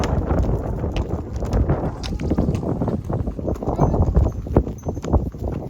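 A slightly lame pony's hooves clop and plod steadily over soft field ground, close to the microphone, with gusts of wind buffeting in the background.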